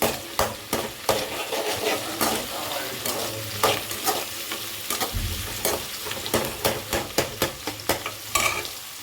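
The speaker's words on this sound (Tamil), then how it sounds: "நல்லா இதை வதக்கிக்கலாம்" Radish and dried fish curry ingredients sautéing in a hot pan, a steady sizzle broken by repeated sharp scrapes and knocks of a spoon stirring against the pan, close up and with no talking.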